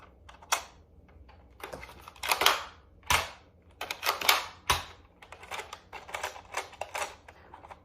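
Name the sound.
Nerf Elite 2.0 Commander RD-6 blaster firing demo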